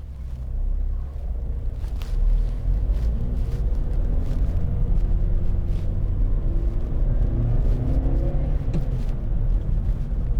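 2011 Vauxhall Corsa 1.2 16v with 84 brake horsepower accelerating, a low engine rumble that dips briefly at a gear change and then pulls steadily with a rising drone, heard from inside the car without talking.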